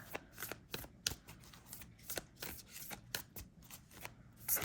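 A deck of tarot cards is shuffled close up, with rapid riffling bursts and soft papery flicks repeating in an uneven rhythm, with no talk.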